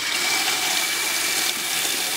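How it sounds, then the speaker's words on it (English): High-pressure tap running steadily with a pump boosting the flow in a rainwater harvesting system, a continuous close hiss of gushing water with no talk. "I'm going to switch on the water."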